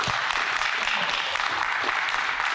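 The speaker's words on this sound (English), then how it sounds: "I want to clap it up for our panelists tonight." Steady audience applause at a college sports symposium honoring a panel of collegiate-level professionals, a dense even wash of clapping holding from start to finish without pause.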